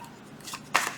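Tarot cards shuffled by hand during a reading, a brief papery riffle followed by a louder, crisp burst of card noise, close and alone without talk.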